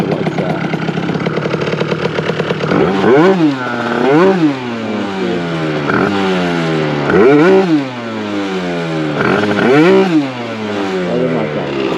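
Yamaha Aerox scooter engine, street tuned with the limiter removed and timing advanced a degree, buzzing at idle then revved repeatedly in sharp blips that rise and fall, loud and close.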